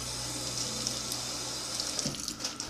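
A kitchen tap runs steadily into the sink while mushrooms are rinsed under it, a constant close hiss of water with faint splashes and shifts in the flow, and no talk.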